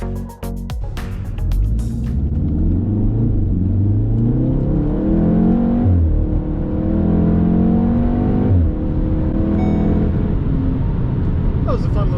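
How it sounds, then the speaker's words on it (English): A Volkswagen Golf R pulls away from a stoplight at half throttle, its engine note climbing steadily and dipping at two gear changes, close and loud throughout. "Acceleration there off the stoplight. Golf R is great for that."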